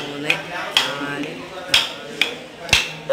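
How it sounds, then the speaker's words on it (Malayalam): A drinking glass strikes a coconut to crack it, giving five sharp, hard knocks at uneven intervals over a low background murmur. "ഗ്ലാസ് കൊണ്ട് തേങ്ങ പൊട്ടിച്ചാൽ ഏത് പൊട്ടും?"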